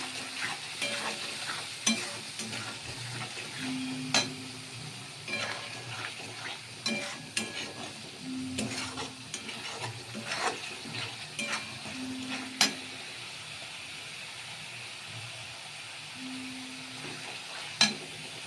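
Masala spice mix frying in a pan and being stirred, a continuous close sizzle with repeated scraping and clinking of the spoon against the pan at an uneven rhythm.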